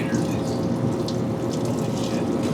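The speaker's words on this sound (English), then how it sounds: "When it leaks, it's coolant." Coolant runs and splashes steadily from the radiator of a 1972 Peterbilt truck, a continuous loud watery gush like a running tap with no pauses.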